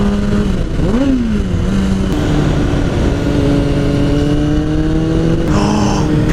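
A sport bike engine revs hard on a downhill run, the exhaust note rising and falling in sharp pitch swings over a constant roar, loud and close, with no talking.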